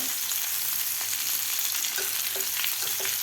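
Bitter gourd slices frying crisp in a pan, a dense continuous sizzle close by, with a few soft taps as the slices are flipped, and no voices over it.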